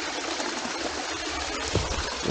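A waterfall in the mountains of Thailand roars as a steady, broad rush of falling water, dense and continuous with no voices over it.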